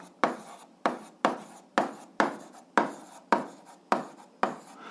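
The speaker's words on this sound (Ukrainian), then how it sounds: "Записуємо тоді закон. Збереження." Writing on a board during a physics lesson, about ten regular strokes in a steady rhythm, each a sharp scratchy onset fading quickly, close and fairly quiet, with no talking.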